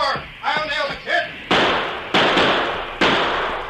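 A sharp blast hits a door in an old Western radio drama, followed by two more booming, echoing reports at steady intervals after a brief stretch of speech.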